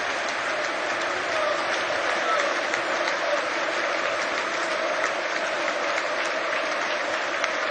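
A large stadium crowd applauds and cheers steadily for Chelsea backroom staff member Steve Holland at a Premier League title celebration, a dense, even roar of clapping throughout.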